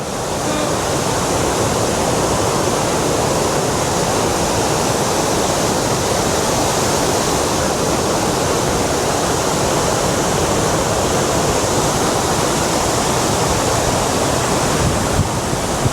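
Fast water pours over the flooded Thirparappu falls in a close, loud, unbroken roar, an even broadband rush that holds at full strength from start to finish.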